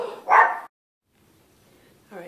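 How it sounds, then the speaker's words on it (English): A dog barks nearby, one loud bark and then a short yelp after a pause, with a person talking in the background. "they stopped barking"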